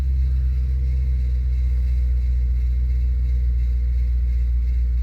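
Engine of a Mercury Cougar idling after a cold start on a hot day, a steady low rumble close by and alone, running continuously with a slightly uneven tone.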